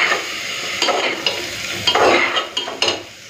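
Onions with a pinch of salt fry in a pan, giving a steady sizzle that is broken by several scraping stirs near the end. No one speaks.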